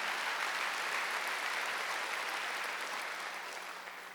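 Congregation applauding during a Wednesday evening church service, a dense, steady wash of clapping from many hands that holds level for about four seconds, then tapers slightly at the end.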